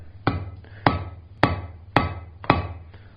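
A blacksmith hammers hot steel on an anvil for a double set down: five sharp, ringing blows land close and loud at an even, unhurried rhythm, each decaying quickly before the next.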